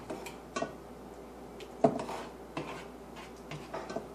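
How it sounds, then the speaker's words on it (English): Browned ground beef is scooped from an oily pan, with faint scraping and a few soft clinks of a utensil against the pan, one sharper knock in the middle. "You can see my freshly browned ground beef is done in the pan. I'm going to just scoop it out, leaving the oil as much as possible still in the pan."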